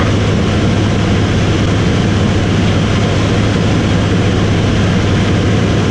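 A de Havilland Beaver's radial piston engine drones in flight with a loud, unbroken low-pitched rumble and a steady hum, heard from inside the cabin.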